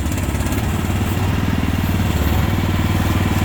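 Engine of a mini trackhoe excavator running while it is operated, a loud steady close-up chugging drone with a fast regular pulse throughout.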